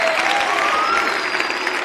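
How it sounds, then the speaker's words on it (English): An audience at a Green Bay Packers clubhouse live show applauds in a dense, even wash of clapping that holds steady throughout, loud and without talk. "let's keep those claps coming"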